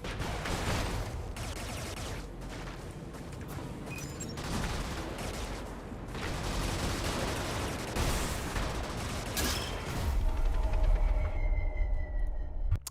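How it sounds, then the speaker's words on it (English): Ship torpedo explosions rumble through the video game Brigador alongside bursts of gunfire, heavy booms and rattling blasts that swell and recur across the stretch, ending in a deep, loud detonation with a lingering tonal sweep. "That was a ship torpedo."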